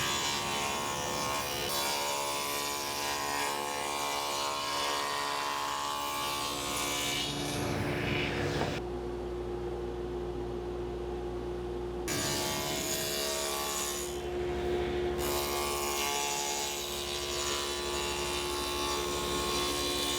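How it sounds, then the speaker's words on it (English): Table saw fitted with a dado blade and a sacrificial fence, cutting rabbets in wood in a workshop: a loud, steady whine with grinding cutting noise, interrupted once by a short drop to a lower spinning hum before cutting resumes. "I have my dado blade set up with a sacrificial fence to protect my main fence so I can cut the rabbets"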